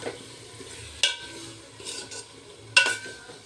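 Vegetables being stirred in a pan for Maharashtrian masale bhat, with a soft sizzle running underneath and two sharp clanks of a spoon against the pan about two seconds apart.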